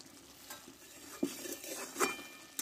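A spoon stirring spicy chicken kosha in a frying pan: scattered scraping clinks and soft sizzling across a few seconds, fairly close, with no talking.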